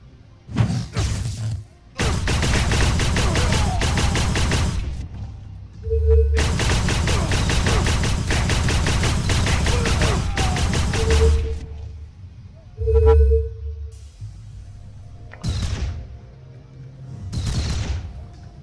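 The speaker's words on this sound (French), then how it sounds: "Oh, allez, l'arme d'assaut." Assault rifle fire in the sci-fi MMORPG Otherland Next, two long sustained bursts of rapid automatic shots separated by short pauses, with scattered single thuds and someone talking in between.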